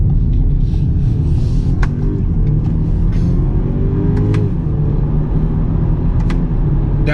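A 2021 BMW X3 xDrive30i with an 8-speed ZF transmission accelerates hard, its engine giving a loud, steady low rumble heard from inside the cabin with no talk over it.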